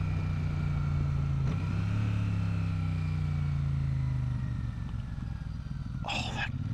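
A Royal Enfield Super Meteor 650 motorcycle's engine burbles and drones as it runs down through the gears, with pitch shifting across several downshifts and a brief gust of wind noise near the end.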